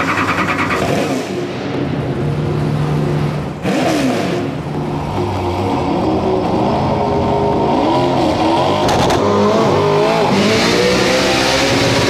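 Ken Block's race car revving hard while the clutch is slipped, a loud, continuous engine roar that climbs and falls in pitch throughout with no one talking.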